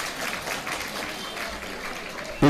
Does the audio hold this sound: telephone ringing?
no